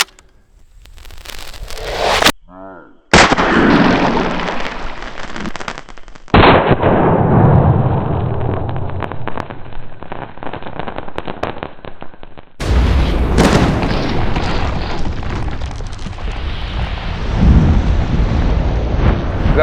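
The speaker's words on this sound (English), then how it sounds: "It was a pretty good fireball." A shotgun firing a Dragon's Breath round that throws out a fireball outdoors, heard as loud, sharp blasts followed by roaring, whooshing bursts with wind buffeting the microphone, several abrupt cuts between them.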